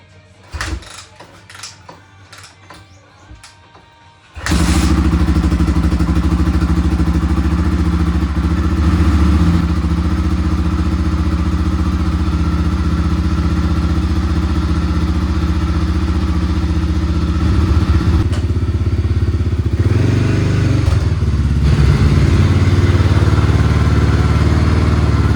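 A Honda XR600R dirt bike with a modified oil cooler is kicked over after a few clunks and fires up, then settles into a loud, steady, close thumping idle that continues with slight revving near the end.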